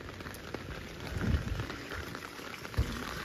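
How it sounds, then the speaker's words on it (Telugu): Rain falling steadily on a terrace garden during a harvest of dragon fruit and ivy gourd in Vizag, a soft continuous patter with a few heavier drop hits, no voices. "ఏంటి వర్షంలో హార్వెస్ట్"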